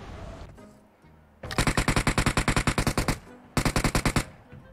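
Automatic gunfire in PUBG Mobile: a loud, rapid string of shots lasting about a second and a half, a short pause, then a second burst of about eight shots, over low game ambience.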